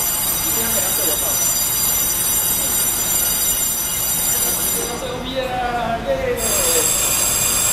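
Aboard a Taroko Express train between Shoufeng and Hualien, a constant rumbling ride noise fills the carriage as the wheels squeal in drawn-out high screeches on the rails, with faint talk in the background.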